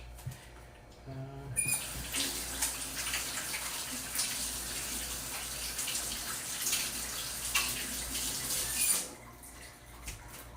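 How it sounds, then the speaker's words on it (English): Shrimp being rinsed and washed under a running kitchen tap, a steady close splash and gush of water with small clatters, starting abruptly and cutting off near the end. "Every time I always rinse and wash."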